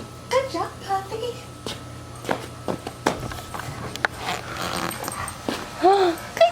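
A puppy gives a few short, high whimpers and whines close by, scattered among footsteps and household movement, with a person speaking softly nearby.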